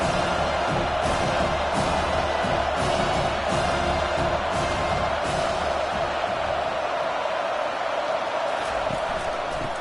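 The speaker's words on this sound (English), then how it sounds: "decibels rising as the crowd gets behind this defense on third down." A stadium crowd in a college football video game, Ole Miss vs Penn State, roars with steady, dense cheering that stays loud and continuous for about ten seconds.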